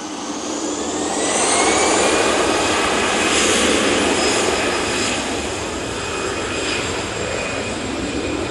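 A Ryanair Boeing 737 MAX jet passes at Manchester Airport: a broad, steady engine roar that builds over the first two seconds and holds loud to the end, with a thin whining tone on top.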